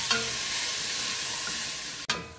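Marinated osso buco browns in a pan with a loud, continuous close sizzle, ending in a sharp clatter as something is moved.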